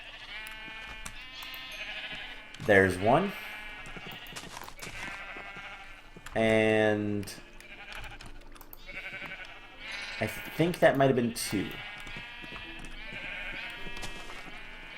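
Several sheep bleats from a video game, each a short wavering cry, ring out over a steady tonal game soundtrack while players talk throughout.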